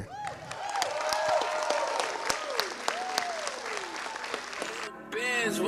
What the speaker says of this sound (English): We're going to give a great round of applause for Malik Herring.